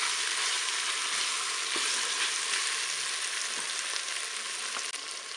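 Chicken thighs browning with curry in a Cookeo multicooker give off a steady, even sizzle, a dense hiss broken by faint pops and crackles.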